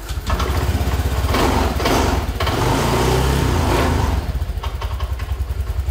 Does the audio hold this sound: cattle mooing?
no